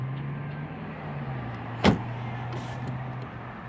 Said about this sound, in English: The windows also tilt down a little bit once you open the door.